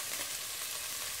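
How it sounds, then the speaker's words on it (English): Onions fry in a pan with a dense, even sizzle, close and constant for about a second, alone without talk. "So right now I'm frying my onions"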